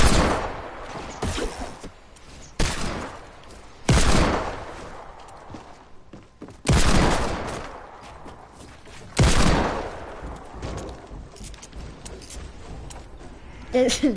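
Fortnite gunfire from a playground pirate ship battle, heard as several loud, separate blasts a few seconds apart, each fading out, with talk in between.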